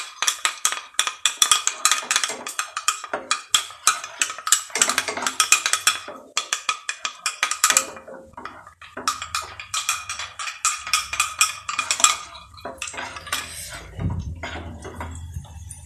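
Spoon clinking and scraping in a small bowl while half a spoon of cornflour is mixed into a liquid, a steady run of close, bright, rhythmic taps with a few louder knocks and low rumbles near the end.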